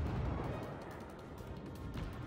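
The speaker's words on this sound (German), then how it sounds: "Der Schuss ist eher ein Verzweiflungsschuss" A distant-target naval gun salvo rumbles from a warship in the World of Warships game, a heavy low boom that decays into a long, rolling roar with no other sounds.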